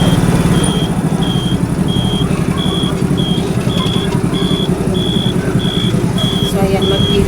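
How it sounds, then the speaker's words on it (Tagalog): A large container van truck reverses with a regular series of sharp high beeps repeating about every half second over a loud idling engine rumble, close by. "Itong laking container van. Truck na yan eh."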